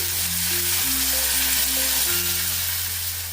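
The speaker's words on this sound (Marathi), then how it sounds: "आता हे जे शेंगदाण्याची पेस्ट आहे ते टाकून घेते" Peanut paste hits a hot tempering of oil and spices for a spicy peanut aamti. A steady, loud sizzle and frying hiss runs throughout, with no voices.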